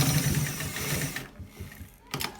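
Sewing machine stitching a V-neck, a close mechanical whirr of rapid needle strokes that stops partway, followed by a couple of short clicks and knocks.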